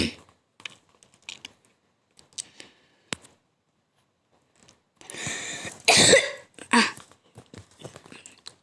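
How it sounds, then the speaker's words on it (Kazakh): A child coughs among scattered clicks and keyboard-like taps during a Minecraft skyblock game session, with a louder burst of coughing and throat sounds near the middle, otherwise mostly quiet gaps. "Жөтелдің ба?"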